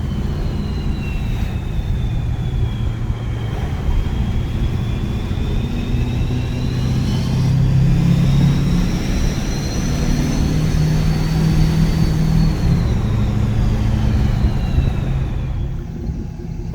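Ford 6.7 Powerstroke compound-turbo diesel pickup driving while towing a load, with a steady loud low engine drone and a rising, falling turbo whistle through upshifts, no talking.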